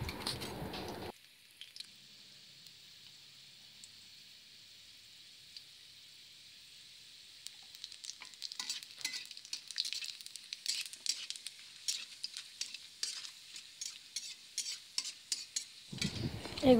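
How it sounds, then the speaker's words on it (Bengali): Garlic cloves and a slit dried red chilli sizzle in hot oil in a home kitchen; a soft steady fry builds into louder crackling and spoon stirring, with brief louder moments at the start and end. "রসুনগুলো আধা ভাজা হয়ে গেলে আমি তার ভিতরে একটা শুকনো লঙ্কা চিরে দেব।"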